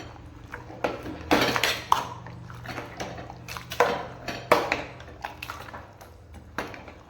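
A spoon stirs masala into a pot of chayote and green peas sambar, giving a run of irregular metallic clinks and scrapes against the pot at close range.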